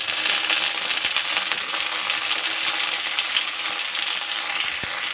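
Onion, green chilli and garlic fry in a hot pan with a bright, dense sizzle and occasional stirring scrapes, close and fairly loud, with no talk.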